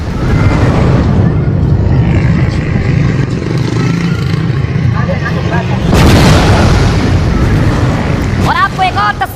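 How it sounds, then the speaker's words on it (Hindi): A blast at a terrorist training camp in news footage, heard as a loud continuous rumbling roar with a sudden heavier boom partway through, mixed with a voice talking over it. "कैसे देखिए जरा धमाका किया है"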